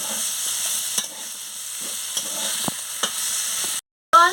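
Potatoes and pointed gourd stir-fry in a pan for posto, a soft sizzle broken by periodic spatula scrapes and taps, with a brief cut to silence near the end and no talking.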